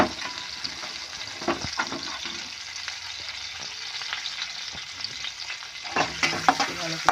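Cashews fry in oil in a pan for Basanti pulao while a spatula stirs them, giving a close, continuous sizzle broken by irregular scraping strokes.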